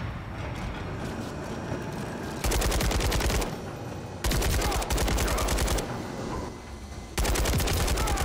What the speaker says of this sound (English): I'm gonna use this gun on the juggernaut.